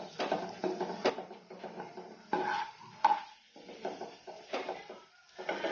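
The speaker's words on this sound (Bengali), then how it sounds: "এবার দিয়ে দেব কাজু বাদামগুলো। একটুখানি নেড়ে নেব, খুব বেশি ফ্রাই করব না আমি।" Cashew nuts are stirred briefly in a pan for a raw papaya chutney, giving soft rattling scrapes and light knocks in an irregular rhythm. The sound is close and quiet, with no talking.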